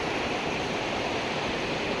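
Papanasam waterfall at a bathing spot, heard as steady broadband rushing and splashing of falling water, loud and continuous with no pauses or voices.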